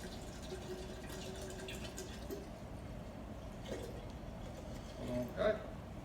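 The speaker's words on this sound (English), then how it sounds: "I want to pour it into my jug here because we're going to make a volcano" Liquid poured into a jug for a homemade volcano experiment makes a steady filling sound that ends with a louder splash near the end, while a voice talks over it.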